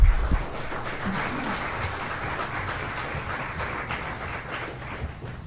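Audience applause following a speech at a public meeting on fracking in New Mexico, a steady wash of many hands clapping at moderate distance, sustained evenly for several seconds before tapering slightly.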